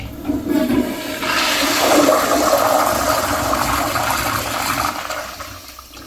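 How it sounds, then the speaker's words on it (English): A wall-mounted Crane Placidus 1.6 gallon siphon-jet toilet flushes close by, a loud rushing surge of water that swirls down and slowly tapers off over several seconds. "Let's have a look at a flush."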